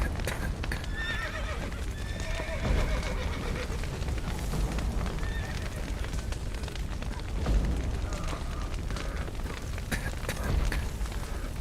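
Horses whinny and neigh several times over the clatter of hooves in The Witcher 3: Wild Hunt, with a rumbling, crackling background din and occasional distant shouts.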